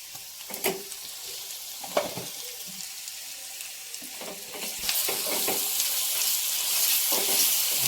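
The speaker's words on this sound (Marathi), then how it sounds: "फ्राय करते फिरवून घेते मसाले" Browning onions and homemade masala fry in a pan, a soft sizzle punctuated by several distinct spatula scrapes and clinks, with the frying hiss growing louder and denser in the second half.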